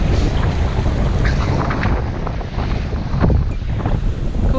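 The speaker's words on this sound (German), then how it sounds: "Gut, ich drehe mich jetzt aus dem Wind, sonst hört ihr mich nicht." Strong stormy wind blows at Lake Neuchâtel, buffeting the microphone with a loud, continuous roar, while waves and surf wash underneath.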